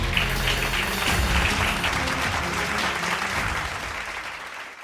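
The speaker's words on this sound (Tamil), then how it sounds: "கைதட்டுங்க ஒருத்தர்." A church congregation at a Tamil Sunday service claps together, a dense, even burst of applause that fills the room and tapers slightly toward the end.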